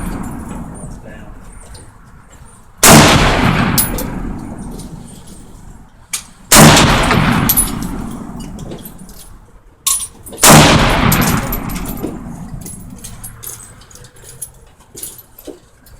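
Shotgun firing managed recoil slugs at an outdoor range, three loud, sharp blasts spaced a few seconds apart, each trailing off, with people talking between the shots.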